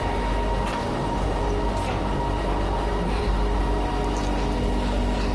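Steady rumble and rattle inside a moving passenger train car, continuous low roar with faint squeaks and clacks throughout, no voices.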